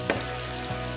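Ginger and garlic sautéing in hot oil over a low to medium flame, a soft continuous sizzle with a couple of faint stir taps, no talk.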